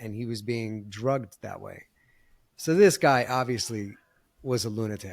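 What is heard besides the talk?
No distinct noise like a dog, phone or traffic.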